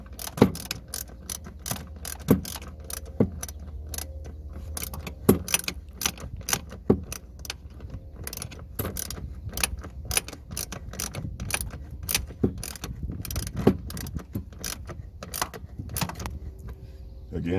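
Clamp being tightened on a cold air intake of a 2015 Camaro SS, a run of quick metallic ratcheting clicks and clinks, close and moderately quiet, continuing for some seconds with no talking.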